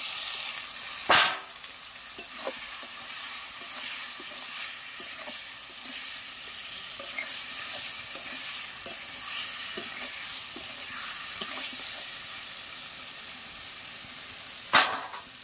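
Boiled potatoes fry in a spice masala, crackling with a soft continuous sizzle while a spatula scrapes and stirs in regular strokes, with a couple of louder clanks against the pan.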